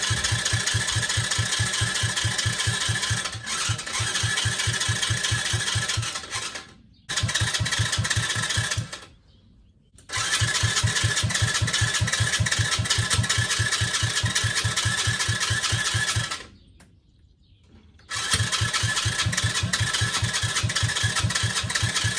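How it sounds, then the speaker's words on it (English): Starter cranking on an owner's first car build while trying to draw fuel into the filter: long bursts of rhythmic, pulsing engine turnover, close and loud, separated by brief silent pauses, with no talking. "Let's try to turn this thing over and see if we can get some fuel in our fuel filter here."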